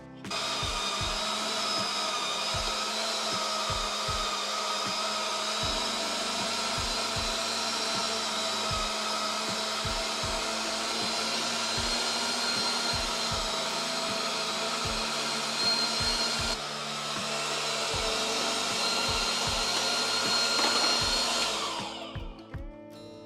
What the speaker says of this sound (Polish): A więc tak, mielimy, na szarpaku i przyprawiamy.